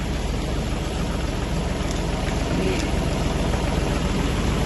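Tractor engine running steadily at idle, a continuous low rumble and drone that stays constant throughout, close and fairly loud with no voices.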